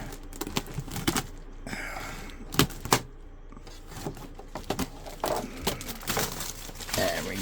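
Scissors cutting open the packaging of an AC Infinity plant dehumidifier, worked one-handed: a run of snipping, crinkling and rustling bursts at close range, with a few sharper crunches in the middle.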